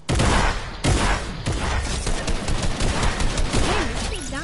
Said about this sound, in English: I know what gun to use now, Jillian. Alright. The minigun?